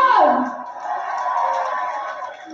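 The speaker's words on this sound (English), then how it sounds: "That's a round of applause." A crowd at a live Brexit street protest cheering and whooping, opening with a loud bellowing shout that settles into sustained cheering and applause for a couple of seconds.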